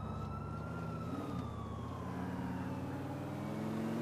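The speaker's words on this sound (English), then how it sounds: "I hear police sirens" Police sirens in the Grand Theft Auto IV city streets, a steady wailing tone that sweeps slowly up and down over a constant low traffic rumble, moderately distant and continuous with no talking.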